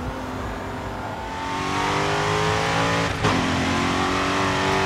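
Racing car in the video game Grid 2 roaring through an Asian city street, engine revving and climbing steadily through gears, loud and close, with a brief scrape or thump near the end.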